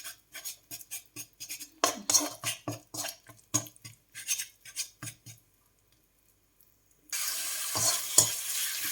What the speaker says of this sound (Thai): มาผัดพริกขิง ผัดพริกแกงผัดพริกแกง